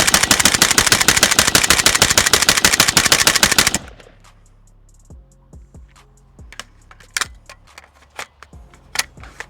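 Red Star BSR47 rifle from Bulgaria dumping a magazine in one loud, rapid string of closely spaced shots lasting a few seconds, followed by quieter clicks and handling clatter of the rifle and magazine.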